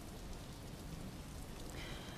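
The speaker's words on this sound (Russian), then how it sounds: "Дождь идет" Steady rain falls throughout, a dense, even hiss of drops with no pauses and no voices over it.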